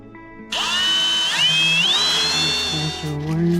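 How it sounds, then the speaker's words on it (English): A power drill bores a hole in the center console of a 2015–2020 Ford F150, a loud close whine that rises in pitch as it speeds up and holds steady for about three seconds, with no voice over it. "So now we gotta drill a hole right here."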